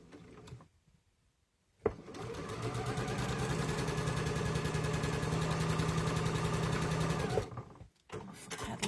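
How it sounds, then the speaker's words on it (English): Sewing machine stitching quilt fabric for a sampler quilt block, a steady, close whirring run of rapid stitches lasting several seconds, with brief quiet handling before and after. "I'm going to stitch this along."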